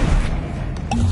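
A Bombarda spell blast in the video game Hogwarts Legacy, a loud booming impact with a swooshing burst that fills the short moment, heard alone without talk.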